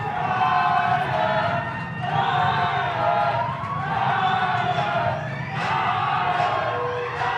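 Etosha Lions rugby supporters roar and chant at a first division final against Oranjemund Rugby Club, a dense, steady crowd chorus with surging rhythmic shouts that stays loud throughout.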